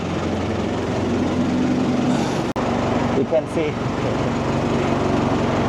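A boat engine drones loudly and steadily close by on a boat in a Cambodian floating village, a continuous mechanical rumble with a brief voice beneath it.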